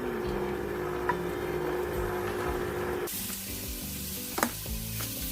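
Four strips of bacon rendering in a hot pan for a corn soup, a steady bright sizzle and hiss heard close, with the texture shifting partway and a couple of sharp pops or clicks.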